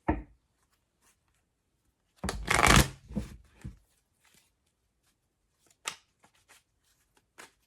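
A deck of tarot cards is shuffled close by in a quiet room, with a brief riffle at the start, one longer riffling burst, and then a few soft snaps and taps as the cards settle.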